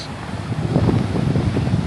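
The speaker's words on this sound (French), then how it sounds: "Il y a beaucoup de vent par contre" Strong wind buffets a microphone on a beach in Tunisia, a rough, gusty roar that swells partway through and stays loud to the end.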